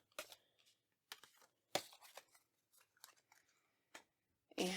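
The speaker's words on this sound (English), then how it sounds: "and then we'll shuffle the deck." Tarot cards shuffled by hand at a desk during a card reading, giving several short, crisp riffling and slapping bursts separated by brief pauses, fairly close and with no talking.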